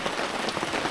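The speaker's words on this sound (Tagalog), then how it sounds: "Ulan na naman. Nabot na ulan mga kaboy." Steady rain falling outdoors on a farm in the Philippines, a dense, even hiss of drops with no gaps and no voices.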